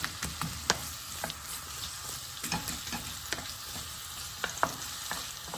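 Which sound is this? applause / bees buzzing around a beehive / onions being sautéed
onions being sautéed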